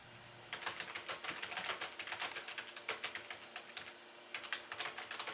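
Rapid keyboard typing, a steady run of crisp clicks close to the microphone, with a brief pause before a final burst of keystrokes.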